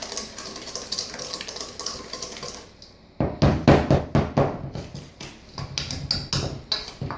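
A wire whisk stirs dusty dry mix in a metal mixing bowl, producing a quick run of loud, close, rhythmic scraping clinks after a softer stretch, with no talking.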